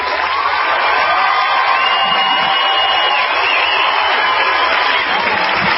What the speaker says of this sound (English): I'm going to give you a round of applause, PJ.